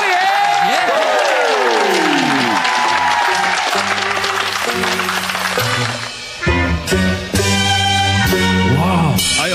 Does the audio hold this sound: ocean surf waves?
no